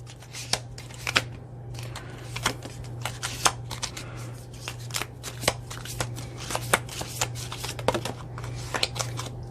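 Round, circle-shaped tarot cards being shuffled by hand close up, giving a quick series of sharp papery riffles and slaps at an uneven rhythm over a low steady hum.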